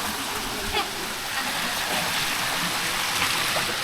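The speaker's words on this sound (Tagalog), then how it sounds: "Bawat gilid, lakas ng tubig oh." Strong stream of water gushing along both banks in a rural Philippine outdoor setting, a steady, dense rushing wash that fills the clip, close and loud, with brief voices now and then.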